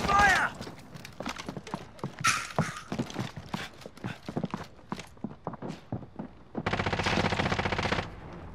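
Gunfire in Call of Duty: Modern Warfare, a house firefight with sharp shots scattered throughout, then a sustained loud automatic burst near the end, with players talking over much of it.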